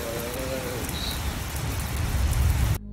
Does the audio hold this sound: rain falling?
yes